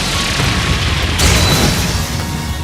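The Rionac weapon in Trails of Cold Steel 3 fires with a booming blast, a sharp crack about midway that swells into a heavy rumbling roar and then trails off under a steady wash of noise.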